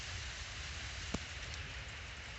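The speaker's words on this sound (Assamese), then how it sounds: "বৰষুণ অলপ অলপ কমছে" Light rain falls steadily at a cremation ground, heard as a faint, even hiss with one sharp drip or tap partway through.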